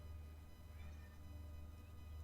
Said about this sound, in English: Yes, Cat, we all hear you.